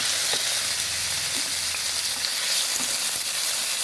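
Prawns shallow frying in a pan of oil, a steady dense sizzle with faint crackles and soft stirring knocks throughout, no voices.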